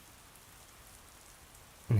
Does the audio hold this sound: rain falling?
yes